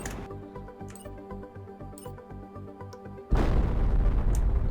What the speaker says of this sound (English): It is not a big explosion.